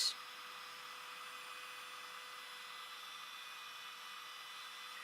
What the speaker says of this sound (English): Heat that with the heat tool until it's melted.